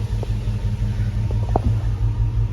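A Hemi V8 swapped into a Jeep Grand Wagoneer idles steadily up close, a rough low rumble with a few small revs and no talk.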